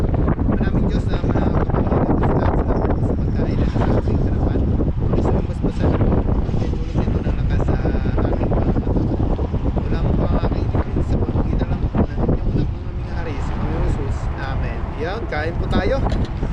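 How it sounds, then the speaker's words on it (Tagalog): Strong wind buffets the microphone in a constant, rumbling roar, with people talking underneath throughout. "Pagpasensyaan nyo na rin po kung maingay po yung ating video. Gawa ko na medyo hangin."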